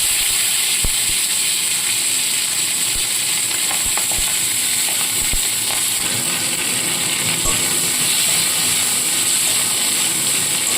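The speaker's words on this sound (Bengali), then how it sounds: "এবার এই অল্প তেলের মধ্যেই আমি পেঁয়াজ কুলিগুলো ভেজে নেবো" Onion stalks frying in a small amount of oil give a steady, close hiss of sizzling that runs throughout, broken by occasional light clicks and taps of a utensil.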